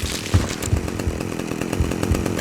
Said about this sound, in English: And Cash kills him with Pigsy's own chainsaw.